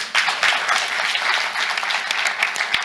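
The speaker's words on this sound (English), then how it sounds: "please give them a round of applause." An audience at a panel discussion on philanthropy and public-private partnerships gives a round of applause, a full, fairly close wash of many hands clapping steadily throughout.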